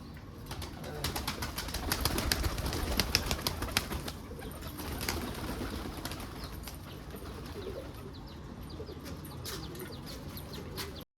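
Pigeons in a coop coo softly while wings flap and flutter in bursts, the flapping busiest early on and then settling into scattered rustles and low cooing, all fairly faint.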